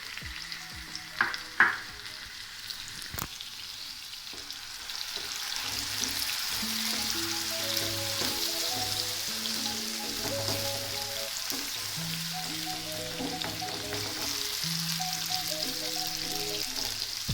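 Chicken fries on a tawa with chopped tomatoes and green chillies, starting with a few utensil clanks and then settling into a steady, moderately loud sizzle. Faint background music plays under the frying, and no one speaks.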